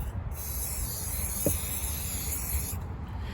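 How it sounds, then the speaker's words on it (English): An aerosol waterproofing spray is applied to shoes from about six inches away, a close, continuous hiss that holds steady for a few seconds with a brief break near the end. "you pretty much have to spray like a layer, evenly, like about 6 inches away from the surface"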